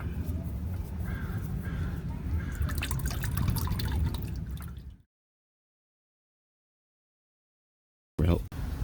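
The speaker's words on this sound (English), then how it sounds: "the oil is still dripping down from the oil pan" Engine oil drips from the oil pan of a 2016 Honda Odyssey during a DIY oil change, soft drips over a steady, fairly loud background noise for about five seconds before the sound cuts to silence, then returns briefly at the end.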